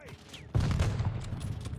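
Gunfire in Call of Duty Vanguard breaks out abruptly after a quiet moment, then rolls on as a loud, sustained burst of rapid shots with game noise underneath.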